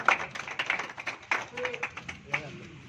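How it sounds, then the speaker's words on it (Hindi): Clapping from a crowd welcoming guests at a Bharat Jodo Yatra rally, uneven bursts of hand claps rising and fading, with someone speaking loudly over them. "जोरदार तालियों।"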